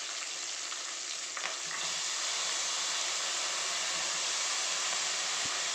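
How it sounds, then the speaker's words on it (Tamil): Onion and curry leaves sautéing in a pan for mochai kathirikai kara kulumbu give off a steady, loud, close sizzle that keeps going without a break, with a few faint clinks from stirring. "கருவேப்பிலை போட்டு 1 நிமிஷம் வதக்கினதுக்கப்புறம் நீங்கள் இந்த காயை இதில் போடணும்"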